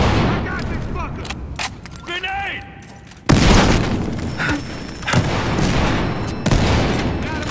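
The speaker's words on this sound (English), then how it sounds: "Tossing one! Grenade." Grenade blast in the video game Battlefield Hardline, a sudden heavy boom in the middle of gunfire, with excited shouting voices before and after.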